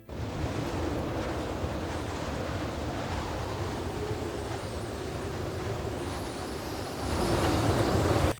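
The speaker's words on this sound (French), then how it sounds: "j'ai rajouté un autre vent, plus froid, plus arctique" Cold arctic wind blows in a steady, dense rush, layered for a video game cinematic and swelling louder near the end.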